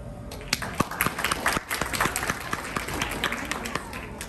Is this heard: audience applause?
yes